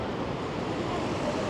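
Strong wind and open-sea waves beside the Hassan II Mosque on the coast, a loud, steady roar of gusts and surf that fills the whole stretch with no break.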